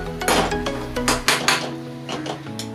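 Egg bhurji made with Malvani masala is mixed in a pan with loud, close metallic clanks and clinks. Several sharp knocks come in quick succession over a steady hum.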